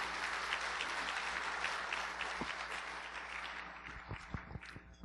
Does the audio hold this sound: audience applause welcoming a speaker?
yes